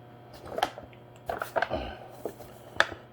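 Hands work yeast dinner roll dough on a floured table, giving soft irregular slaps, pats and squishes in small bursts, fairly quiet and close.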